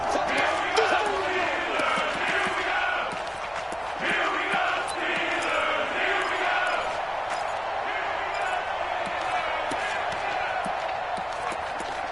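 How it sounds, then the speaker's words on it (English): Football stadium crowd cheering and roaring steadily ahead of a big third down, a dense, sustained wash of many voices throughout with a broadcast commentator's voice over it. "The crowd getting into it as we come up on a big 3rd down."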